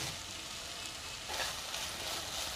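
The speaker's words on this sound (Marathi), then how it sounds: "आता झाकण न ठेवता मी 2 ते 3 मिनिटं भेंडी पुन्हा एकदा छान शिजवून घेणार आहे।" Okra (bhindi) sizzles in an uncovered pan, a soft continuous frying crackle with a brief louder swell partway through, alone and fairly quiet.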